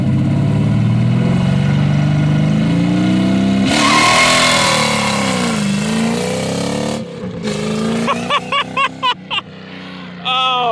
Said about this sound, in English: Do you think it'll do a burnout?